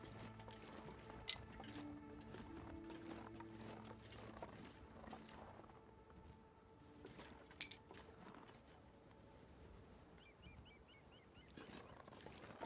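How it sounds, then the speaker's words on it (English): A bear roars faintly in a snowy survival video game, a low, drawn-out growl that sits far off under a steady ambient wash, with no one talking. "Am I hearing the bear?"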